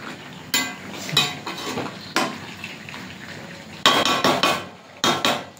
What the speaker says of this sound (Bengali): হ্যাঁ, আবার একটু ঢাকা দিয়ে রাখি 2-1 মিনিট।